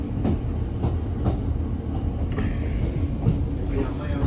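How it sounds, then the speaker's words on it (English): A GWR train rumbles low and steady with faint clicking of wheels and a brief squeal, heard nearby at Cardiff Queen Street station. "Oh look, there's a GWR train."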